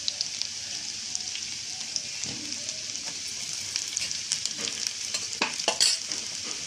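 Onions sizzling and frying in a pan for an egg dish, with a steady high hiss and occasional stirring scrapes and clinks throughout, moderately close and alone.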